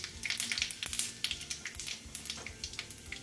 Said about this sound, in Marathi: यामध्ये आपण 1 टीस्पून जिऱ्यांची फोडणी करतो